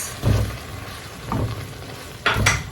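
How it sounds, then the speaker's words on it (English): Cooking cream poured into a beef stroganoff sauce in a pan, giving three short bursts of stirring and sizzling a second or so apart, close and moderately loud, with no talking. "I'll go ahead and add my cooking cream to the sauce."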